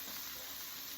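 Peppers frying in a skillet give a steady, close hiss of sizzling, even and unbroken for a brief moment with no talking.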